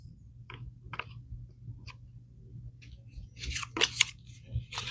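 A deck of tarot cards being shuffled by hand, giving quiet, crisp papery flicks and clicks in scattered bursts. The bursts grow busier and louder toward the end over a low background hum.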